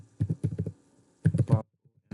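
Typing HTML code on a computer keyboard, two quick clusters of close, crisp key clacks separated by a pause, with no talking.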